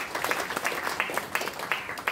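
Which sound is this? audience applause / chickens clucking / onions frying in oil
audience applause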